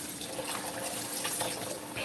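Cold water runs steadily from a tap in a quiet workspace, a soft continuous splashing rush at moderate level with no talking.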